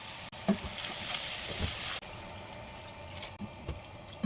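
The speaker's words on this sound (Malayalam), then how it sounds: "സോസേജ് ആഡ് ചെയ്ത് കുറച്ച് കുരുമുളക് പൊടി ഇട്ട് ആവശ്യത്തിന് വെള്ളം ഒഴിച്ചൊന്ന് തിളപ്പിച്ചെടുക്കാം" Sausage curry with pepper powder and water bubbling in a pan, a continuous close sizzling simmer with occasional soft stirring knocks and no talking.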